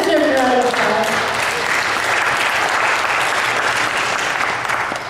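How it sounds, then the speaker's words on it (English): Audience applause at an activist's talk, a loud, full round of clapping from a crowd that starts strong and holds steady before tapering slightly at the end, with a voice briefly heard at the start. "that deserves a round of applause"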